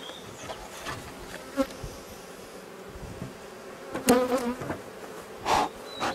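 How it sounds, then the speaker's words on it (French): A steady drone of honeybees buzzing close by around an open hive, swelling louder in a couple of bursts with a few clicks and knocks mixed in. "Il y a pas mal d'abeilles."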